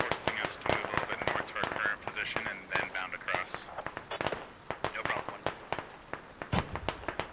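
Scattered gunshots crack irregularly in the military shooter game SquadOps, some sharp and fairly close, others dull and distant, while a person talks over much of the stretch.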